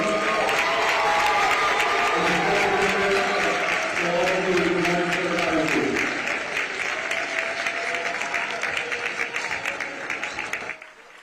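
Loud sustained applause fills a high school basketball fieldhouse on senior day, a big crowd clapping steadily for several seconds before tapering off and stopping abruptly.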